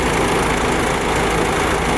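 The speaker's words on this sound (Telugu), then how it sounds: "బండి సౌండ్ కూడా మీకు క్లియర్గా వినిపిస్తుంది." A vehicle's engine idles close by, its loud, steady droning rumble running unbroken for the whole two seconds with no voices over it.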